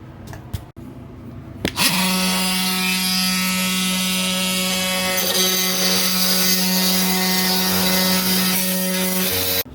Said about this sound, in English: And these are just spinning right here, so I gotta multi-tool them off.